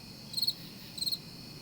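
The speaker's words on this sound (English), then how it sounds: "I hear crickets." A cricket chirping sound effect in two short bursts of rapid pulses, about half a second apart, fairly quiet against a faint steady background hum.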